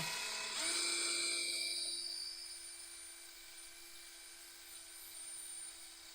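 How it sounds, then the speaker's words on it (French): Bosch Pro multi-construction drill bit boring into a small piece of metal rail, a high whining drill tone that starts sharply, rises, then settles into a quieter steady hum. "Vous voyez, ça perce. Un petit bout de rail, mais ça perce."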